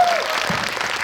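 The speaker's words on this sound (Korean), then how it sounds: "우리끼리 그렇게 인정하기로 하셨으면 박수." Audience clapping steadily and loudly in a cinema auditorium at a film talk event at Megabox COEX, a dense burst of applause from the crowd with no speech over it.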